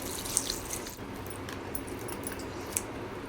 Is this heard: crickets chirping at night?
no